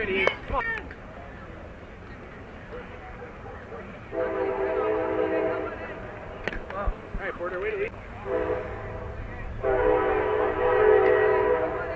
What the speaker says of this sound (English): Train coming through the city.